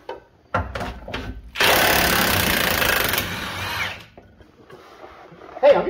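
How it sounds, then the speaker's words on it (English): An impact wrench with an impact socket works under a Hummer H2 in a garage, a few short bursts followed by one sustained loud rattling run of about two seconds, close up. "I'm using an impact socket,"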